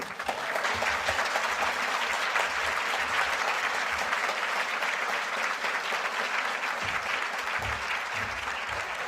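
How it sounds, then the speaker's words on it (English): A crowd at an annual family housing fundraising breakfast applauds steadily, a full, sustained wash of clapping that runs unbroken for around nine seconds, heard from within the room. "One more round of applause for Justin for that spoken word."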